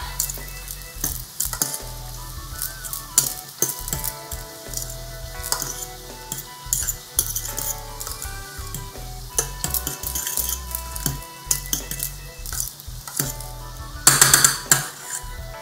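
Lime zest and cilantro stirred into rice cooking in a pan, a steady sizzle under repeated scraping and clinking of a utensil against the cookware, with a louder clatter near the end and no talking.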